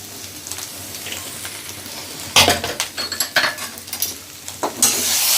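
Egg noodles tossed with hot and sweet sauce in a pan, with loud metallic scrapes and clatters from a stirring utensil over a constant sizzle, close up and rhythmic after a quieter start.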